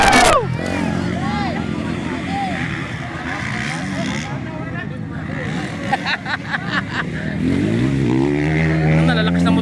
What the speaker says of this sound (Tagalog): Nalalakas na motor na to oh.